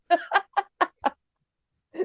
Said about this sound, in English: that's the rooster.